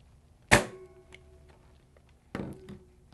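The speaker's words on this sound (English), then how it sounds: "place a staple right in the center" Two sharp staple-gun snaps stapling canvas to a frame, the first loud and close, the second a bit softer about two seconds later, each with a short mechanical rattle.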